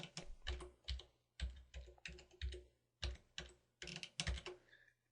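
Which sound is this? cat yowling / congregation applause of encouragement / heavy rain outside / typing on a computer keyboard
typing on a computer keyboard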